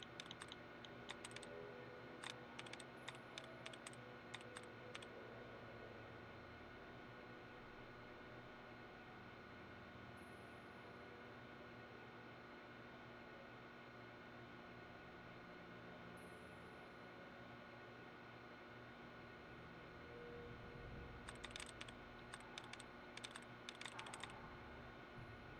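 Fast computer-keyboard typing in bursts of clattering keystrokes, clustered near the start and again toward the end, set over a steady hum from a gaming setup with a low background drone.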